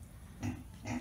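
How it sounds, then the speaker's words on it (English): A big pig gives two short, low grunts about half a second apart. The grunts are fairly close but faint, over a quiet outdoor background. "Look at that big pig."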